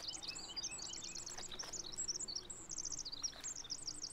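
Several birds chirp in the video game The Forest, trading quick high tweets in short bursts over a soft, steady outdoor ambience.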